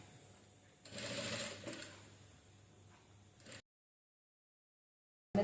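A sewing machine runs while stitching a saree blouse, a close mechanical whirr for a few seconds that stops, then silence before a brief knock at the end.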